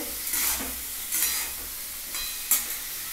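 Vegetable daliya (broken wheat) is stir-fried in a pan, with a soft sizzle throughout and three or four brief scraping stirs spaced about a second apart; close-up and steady, with no voices.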